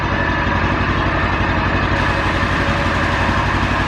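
A UTV engine idles steadily and loudly nearby, with a constant low rumble and vibration and no speech over it.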